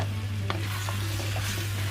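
Chicken and koorka (Chinese potato) frying in a pan, a steady sizzle with a few light stirring clicks, close and continuous, no speech.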